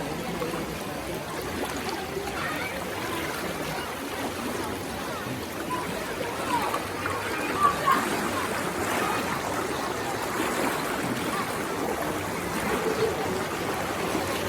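Fast, swollen river water during a major flood, a steady broad rushing roar sustained throughout, with faint voices or splashes now and then.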